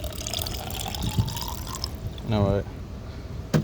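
Water poured into a BMW's coolant system after concentrate was added, giving a short gurgling fill burst that rises in pitch, heard under a man's speech in a garage-like space.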